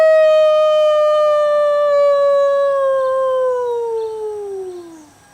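A single long, sustained howl glides slowly downward in pitch and fades at the end, loud and close, a human voice imitating a wolf during a full moon yoga session.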